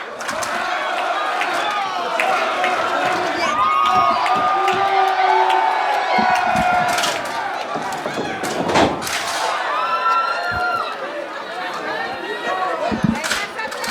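Crowd roars and cheers throughout a no-disqualification independent wrestling match in Quebec as Sabotage calls for fan support, loud and sustained with scattered thuds and slams and a commentator talking over it.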